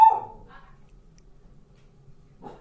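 A single dog bark rings out loud and close at the start, followed by a quiet stretch and a fainter second yelp near the end.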